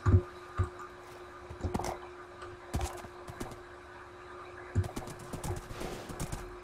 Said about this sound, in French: Allez mon petit cheval.